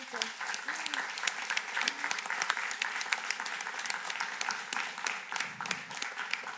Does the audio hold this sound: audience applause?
yes